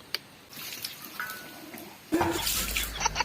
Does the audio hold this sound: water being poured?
yes